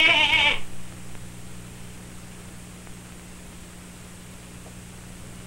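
An old billy goat gives one short bleat at an outdoor picnic in a 1952 film, followed by a steady low hum with no further animal calls.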